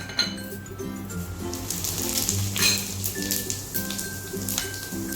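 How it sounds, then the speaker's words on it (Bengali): Whole cumin seeds hit hot oil in a wok, giving a crackling, spitting sizzle with scattered sharp pops over a faint steady tonal background. "এখন কড়াইতে একটু তেল দিয়ে এখন আমরা ফোড়ন দিব। প্রথমে দিব গোটা জিরা"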